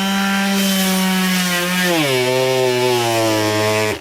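A Makita 18v sheet sander is pressed hard onto wood in a stall test, its loud buzzing whine holding steady, then dropping in pitch as the load bogs it down, before cutting off abruptly.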